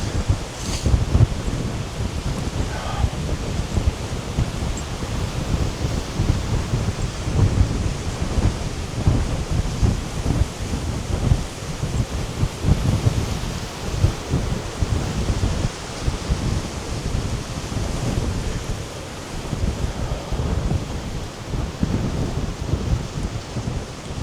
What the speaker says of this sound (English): It's a windy day, it's probably all blown away.